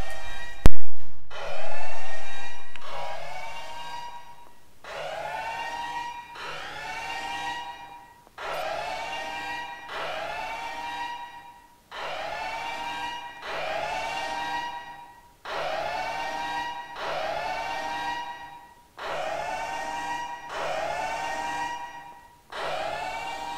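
A repeating alarm siren blares in steady cycles, each rising tone followed by a sustained wail, about a dozen loud bursts with short gaps, heard alone with no voices.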